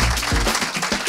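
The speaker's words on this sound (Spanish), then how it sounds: "Yo me doy por satisfecho con este aplauso tan espontáneo de nuestras queridas gentes" A brief burst of spontaneous audience applause, a loud patter of many hands clapping close by.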